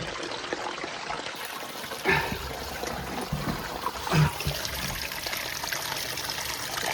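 Leaking water trickles and runs steadily across a dirt crawl space beneath a house near the main sewer line, a continuous close dribble with a couple of brief louder splashes and no talking.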